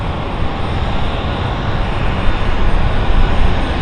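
KLM jet airliner turning in to land at London City Airport, a steady broadband engine roar holding even and fairly loud throughout, swelling slightly toward the end, with no talk.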